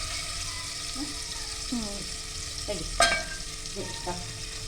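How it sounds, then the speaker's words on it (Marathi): Onion frying in a pot for vegetable pulao, giving a steady sizzle while a utensil stirs and scrapes now and then, with occasional clinks and brief voices in the background. "फ्राय करायला ते पण कांदा घालतो"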